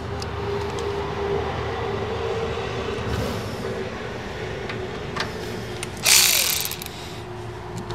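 A DCA ADPB02-10 cordless ratchet tightens a bolt back on, its motor a steady mechanical whir under broadband noise, with a short, louder burst of clicking and buzzing near the end.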